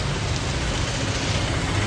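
Heavy rain pours down in Kerala as an unbroken, dense hiss of drops striking surfaces, steady and close.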